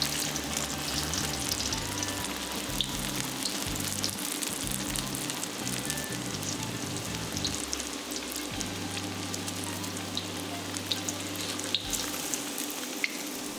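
Tofu pieces frying in batches in a small pan, a steady close crackling sizzle running throughout with a low background hum and occasional light pops, no talk.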